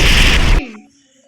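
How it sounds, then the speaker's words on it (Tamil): A detonator explosion in Hitman: Blood Money lands as a loud, close burst lasting about half a second, then drops into a short fading rumble and ringing tail. "வெடிச்சிருச்சு"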